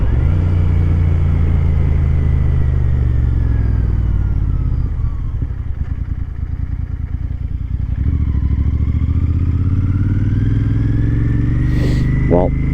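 A motorcycle ridden two-up at night, its engine rumbling loud and close with wind noise and a dip in revs midway, while a voice talks over it.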